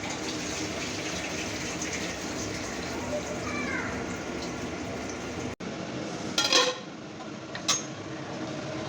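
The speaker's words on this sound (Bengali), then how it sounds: "বিরিয়ানির চালটা একটু দেরি করে এলো, যার জন্য আমি এখন ধুয়ে ভিজিয়ে" Biryani rice is washed in water with a steady running-water wash and sloshing throughout, a sharp knock midway, and then a few louder splashes and pours near the end, close by, with no talking.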